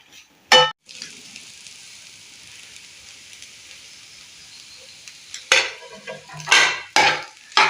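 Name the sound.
stirring fried paneer into palak rice in pan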